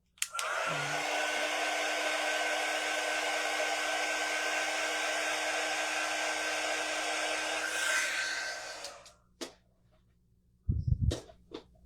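A hair dryer runs loud and steady for about eight seconds, drying a Santa figure, then cuts off, leaving a few short knocks and bumps at the end.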